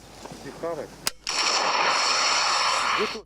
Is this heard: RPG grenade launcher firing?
yes